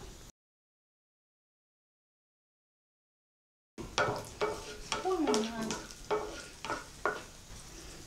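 Cashew nuts roast in hot oil for aval mixture, a soft sizzle with scattered stirring taps, following a few seconds of silence at the start.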